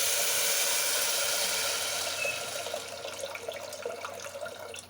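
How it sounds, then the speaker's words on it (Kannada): Water runs into a pot of moong dal being cooked for payasa, a steady splashing pour that thins into lighter trickles and drips toward the end, with no talking. "ಅಷ್ಟು ನೀರು ಸೇರಿಸಿ"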